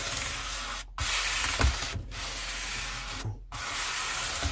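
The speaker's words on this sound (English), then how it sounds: "So now I've got some 1000 grit of my sanding block." A 1000 grit sanding block rubbed over the frets of a Harley Benton HB35 guitar, a close, loud hissing rasp in long back-and-forth strokes broken by three short pauses.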